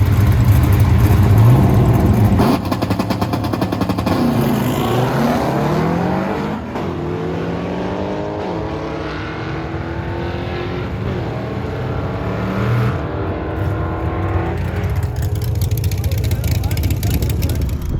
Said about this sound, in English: He actually just made a pass in open comp